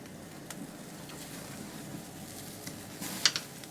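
Pork ribs sizzle faintly on a Kamado Joe Konnected Joe grill, a steady low crackle with a few soft pops and brief ticks near the end, no talking.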